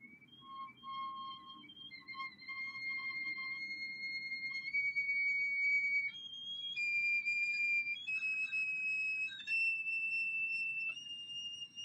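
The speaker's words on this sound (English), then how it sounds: "咁 delicate 嘅一個whistle tone" Delicate flute whistle tones, thin pure high pitches played with slow, relaxed air, stepping upward through several sustained notes over a soft low background hum.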